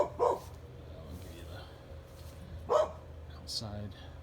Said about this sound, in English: there's Mr. Dog